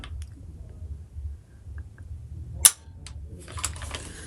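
A firearm is dry-fired on a Mantis X10 Elite training system, giving a single sharp, close metallic click in an otherwise quiet room with a low background hum.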